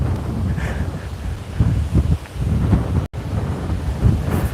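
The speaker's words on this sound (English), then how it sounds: "so I hope that the wind noise ain't bad" Strong wind buffeting a microphone on an outdoor trail, loud low rumbling gusts rising and falling continuously, with a brief dropout midway and no speech.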